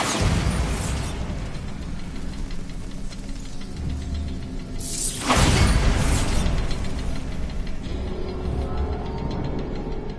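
A Bombarda blasting spell detonates in Hogwarts Legacy, one sudden broadband explosion about halfway through that stays loud, set against a continuous rumbling, mechanical game background.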